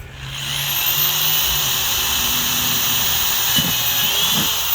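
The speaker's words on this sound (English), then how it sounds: "you're gonna get your drill out and let your drill do the work" A power drill bores holes through a plastic plant pot, a steady high-pitched whine running continuously and fairly loud with no talking over it.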